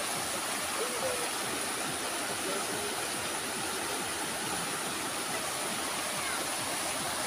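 Strong river current rushing in a broad, steady roar of fast water, continuous and loud for the whole stretch, close by with no talk over it.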